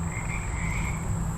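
Frogs croak at a pond in a continuous, overlapping chorus of droning calls, close and fairly loud, with no voices.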